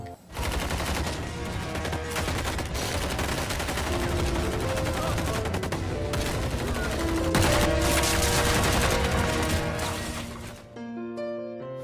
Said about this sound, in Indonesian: para ladies pun langsung menembaki seluruh pasukan teroris itu